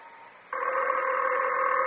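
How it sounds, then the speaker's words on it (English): A telephone in an old radio suspense drama sounds a steady electronic tone that steps up sharply in loudness partway through and holds, clear and close, with no voices. "I know it's the phone."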